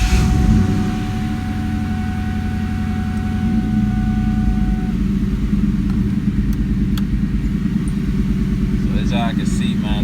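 A New Edge Ford Mustang with a swapped engine cranks and runs as a steady low rumble with a faint whine, while someone talks over it nearby.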